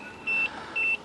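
Two short, high electronic beeps from a Nissan NATS 2 immobilizer bypass unit, spaced about half a second apart, clear over a faint low background hum.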